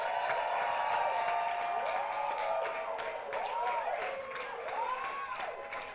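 A studio audience claps and cheers together at a comedy show's season finale, a dense, steady wash of applause with whooping voices rising over it, fairly loud throughout and easing slightly toward the end.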